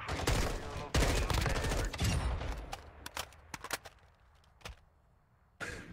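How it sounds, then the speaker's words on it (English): Gunfire in the Apex Legends video game, with dense overlapping bursts of shots for the first few seconds followed by scattered single cracks and a final burst, fairly loud. "Are you shooting me?"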